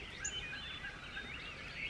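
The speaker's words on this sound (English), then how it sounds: "There's a bird back behind me gobbling too." A wild turkey gobbles faintly from a distance during a late-season public land hunt, the calls thin and far off over quiet outdoor background.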